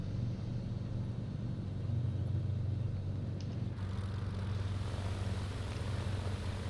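In Flight Simulator 2020, a Cirrus SR-22 propeller plane hums with a steady low engine drone, heard from inside at low level, with the tone shifting slightly partway through as the view changes.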